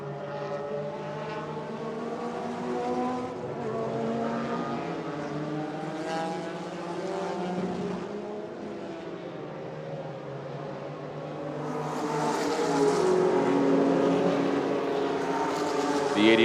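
Vintage race cars, including a 365 GTB Ferrari, passing on the Monterey track during a motorsports reunion, a sustained droning engine roar that swells louder toward the end as cars go by.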